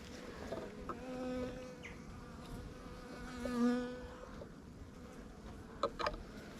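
Honey bees hum inside a winter hive during a varroa mite oxalic acid treatment, close, wavering buzzes that rise and fade in pitch, with a few soft clicks.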